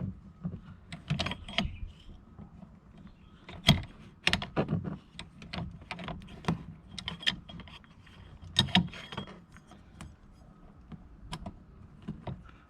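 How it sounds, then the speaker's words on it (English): A tool works the clip off the window crank handle on the inner driver door of a 1995 Chevy 2500 pickup. Small plastic and metal clicks and ticks come in irregular close bursts, with no talk. "I'm going to have to remove the clip that holds the handle in with this tool."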